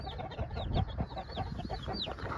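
Several Aseel chickens cluck and chatter nearby on a farm in Saudi Arabia, in a busy, overlapping stream of short calls, fairly loud and continuous.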